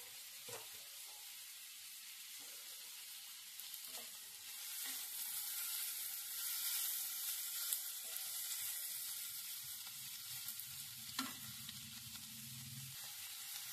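Onion and capsicum fry in a pan for a pan-cooked pizza topping, a steady broadband sizzle throughout with occasional stirring scrapes and a louder clatter near the end, no voices.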